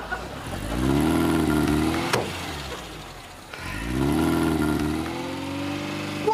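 A car engine revs past at speed in two surges, rising and falling as it accelerates, fairly close and loud with no talk over it.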